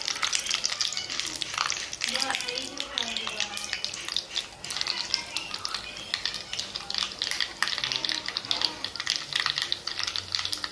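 Steady crackling sizzle of spices tempering in hot oil for a yogurt dish, continuous and close, with faint stirring under it.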